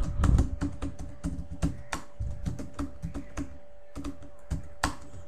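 Typing on a computer keyboard, a steady run of close, crisp key clicks in irregular bursts with short pauses, no voices.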